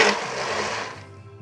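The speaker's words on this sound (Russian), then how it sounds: "Сейчас начнем все это перемалывать и посмотрим," A blender grinding a boar liver pâté mixture, a loud steady motor whir with thick churning that eases off toward the end.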